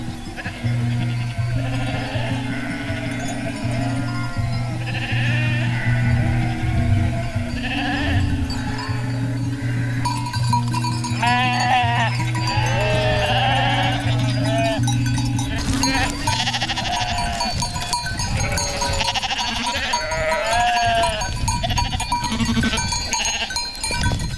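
A flock of sheep in the Alps bleats repeatedly over a steady low drone, with overlapping calls, some near and some farther off, and faint voices at times.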